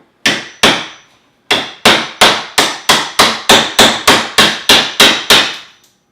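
A chisel struck with a mallet cuts a door hinge mortise into a wooden door: two sharp knocks, a pause, then a steady run of about eleven evenly spaced blows, loud and close with no talk.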